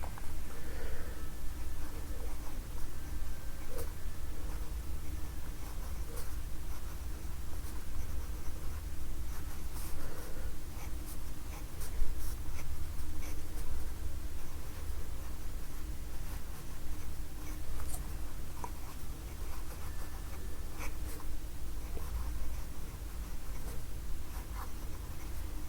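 Jinhao X450 fountain pen nib writing on paper, a soft continuous scratchy rasp with faint ticks, close and steady throughout with no talk.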